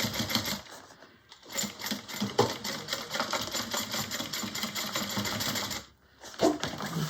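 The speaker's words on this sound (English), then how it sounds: "trim that off after I sew this on." A sewing machine stitches a bag in fast, steady mechanical chatter with two brief pauses, close and continuous, with no talk over it.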